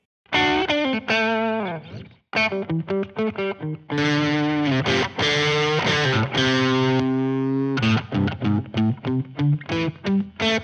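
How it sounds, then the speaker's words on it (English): An electric guitar through a Tube Screamer overdrive pedal plays bursts of notes and chords, crunchy and saturated, with short pauses between phrases and a rapid staccato run at the end. "Here's a tube screamer on its own."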